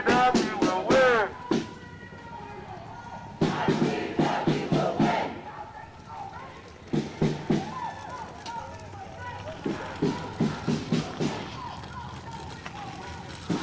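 A protest crowd of about 100 people marches through Minneapolis for Ma'Khia Bryant, with loud rhythmic chanting in bursts and pauses between them, while nearby voices talk throughout.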